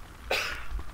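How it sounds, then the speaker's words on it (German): A single short cough from a player, a broadband burst near the start that fades into a faint trailing breath, close and clear against a quiet background. "Moment, husten."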